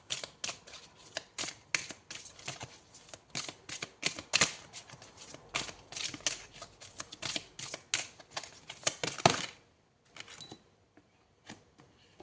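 Tarot cards being shuffled close up, a quick run of crisp riffling bursts for about nine seconds before it stops, with a couple of faint flicks after.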